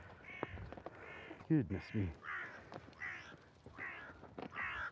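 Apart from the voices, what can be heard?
crows cawing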